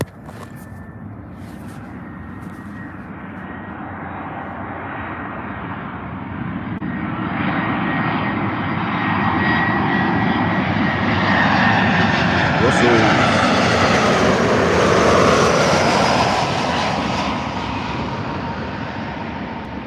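A jet airliner arriving at Manchester Airport roars in, a loud broad rumble that builds, peaks and starts to fade over twenty seconds, heard outdoors near a pub with people talking faintly.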